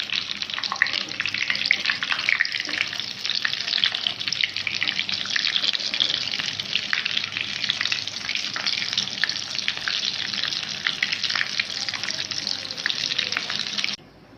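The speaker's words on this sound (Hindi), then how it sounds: "बस इनको भी मैं फ्राई कर लूँ" Chicken and potato kebabs fry in a pan with a loud, steady sizzle that runs unbroken for about fourteen seconds before cutting off abruptly, with no talking over it.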